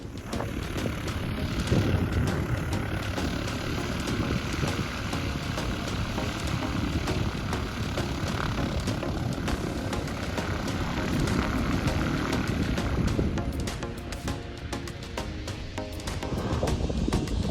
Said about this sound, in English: So the tow plane is getting into position, taking out the slack.